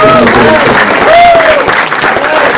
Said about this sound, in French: Est-ce qu'on peut les applaudir encore?